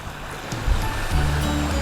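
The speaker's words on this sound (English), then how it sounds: "We've got this 8-metre stream bobbling down the hillside with various waterfalls and things" Water from an 8-metre garden stream runs down a gentle hillside over several small rock waterfalls beside an ecosystem pond, a steady close rushing and splashing with low burbling that swells slightly midway.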